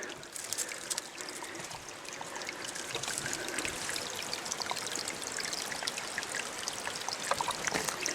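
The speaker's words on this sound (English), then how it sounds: "Nice orange water coming out right there." Orange-tinted water running out of an old mine, a continuous close trickle and gurgle of shallow flowing water with faint splashes, steady throughout with no speech.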